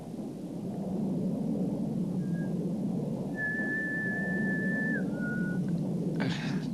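A person whistles a few thin, sustained notes over a steady background hum, the longest tone held for about a second and a half.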